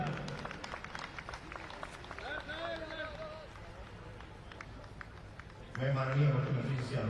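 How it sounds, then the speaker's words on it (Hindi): Audience applause at the opening of the Gwalior fair in Madhya Pradesh, a broad steady clapping from a crowd that swells louder near the end. "जोरदार तालियों से अभिनंदन"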